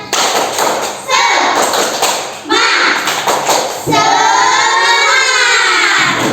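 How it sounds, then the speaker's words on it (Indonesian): Indonesian classroom of children doing the 'tepuk semangat' spirit clapping chant, with bursts of loud claps and shouted chanting in a few rounds, and a teacher's voice in between. "tepuk semangat dulu Fatul. Tepuk semangat."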